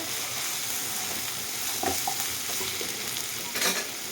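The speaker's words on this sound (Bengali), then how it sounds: "হাই ফ্লেমে রেখেছি দু তিন মিনিট আমি নাড়াচাড়া করে নেব পেঁয়াজটা" Chopped onions stirred and fried in a pan on high flame, a steady loud sizzle with intermittent scraping stirs, without any talking.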